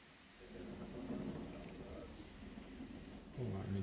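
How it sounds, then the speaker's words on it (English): A thunderstorm with steady rain plays as a continuous broadband wash throughout, with low rumbling thunder swelling near the end, and faint talk underneath. "let me pause the thunderstorm"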